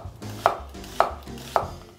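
A knife cuts an onion into thin strips on a board, giving three evenly spaced, crisp chops close by, each a sharp knock against a soft crunching background; no voices.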